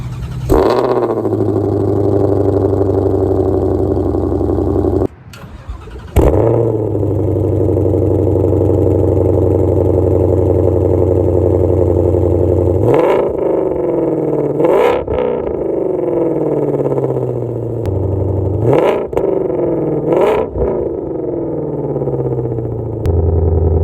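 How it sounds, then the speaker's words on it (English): A 2020 Ford Mustang Shelby GT500 cold-starts loudly and idles with a deep, throaty exhaust rumble, followed by several sharp revs that rise and fall. "So I will show you what the insane exhaust sounds like first"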